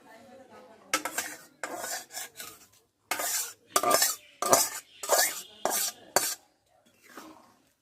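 Cooked mung dal is tipped into a pan of cumin and chilli fried in ghee, the metal pot and spoon clattering and scraping in several short, fairly loud bursts separated by brief pauses.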